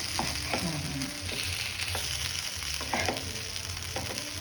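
Pieces of elephant yam (kanda gadda) frying in oil in a pan, a steady close sizzle with intermittent stirring scrapes, heard alone without talk.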